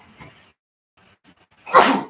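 A single sharp sneeze bursts out loud and close near the end, following a few faint murmurs and near silence.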